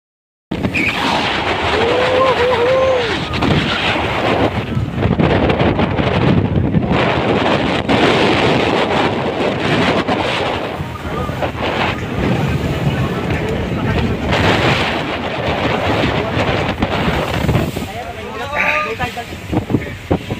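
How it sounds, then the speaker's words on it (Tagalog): Rough Arabian Gulf sea waves off Dubai crash and churn around a boat under heavy wind buffeting the microphone, a constant loud roar with faint voices mixed in. "Grabe ang alon!"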